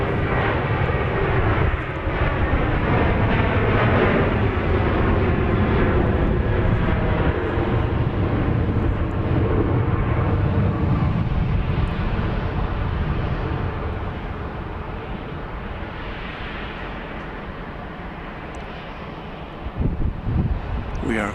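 A Breeze Airways charter jet at Dallas Love Field rumbles loudly and steadily throughout, a broad engine roar with wind buffeting the microphone, slowly easing off toward the end as it recedes.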